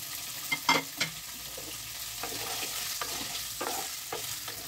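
Paneer pieces dropped into hot white oil in a kadai, a quiet crackling sizzle with scattered sharp spatters and clinks from stirring, close by and without speech.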